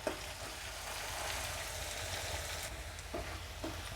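Onions frying in a pan for Kerala parippu (lentil) curry give a steady, close sizzle over the full stretch, with a few soft stirring scrapes and clicks.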